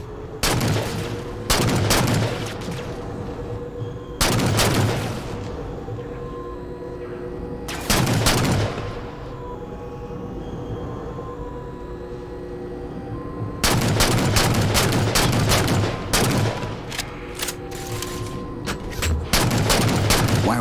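Heavy gunfire in Halo 4 comes in repeated loud bursts of rapid shots, with clusters separated by lulls of humming background, and the firing thickens into a sustained volley toward the end.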